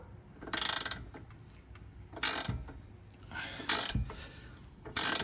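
A pinch bolt being worked out of the front control arm on an Audi B8 A4, A5, S4, S5 or Q5, with four separate short bursts of metallic ratcheting at regular intervals between quiet gaps.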